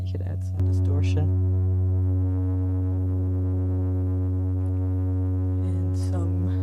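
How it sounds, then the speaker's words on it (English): Distortion on a flipped piano sample, with sustained buzzy low tones and dense harmonics droning throughout and brief tonal chirps at the start and end. "And you could add some distortion."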